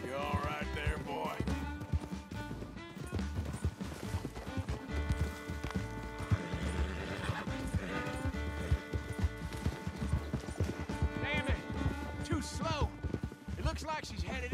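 Horse hooves clip-clopping and galloping in the Western game Red Dead Redemption 2, a steady rhythmic beat running throughout under dense game music and a voice talking.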